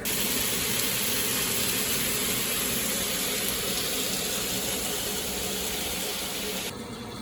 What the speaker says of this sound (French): Donc je rajoute de l'eau au fur et à mesure.